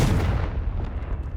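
A Confringo spell blast in Hogwarts Legacy hits as one short, heavy booming explosion that decays quickly.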